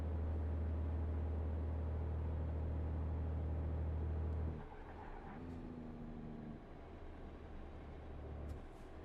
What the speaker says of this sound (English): I do wish that exhaust note was a little louder, but it's fine.